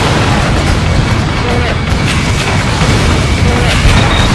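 Missile strike destroying an enemy SAM site in the flight combat game Ace Combat Infinity: a loud, sustained roaring blast and rumble filling the whole clip, dense and continuous with no pause.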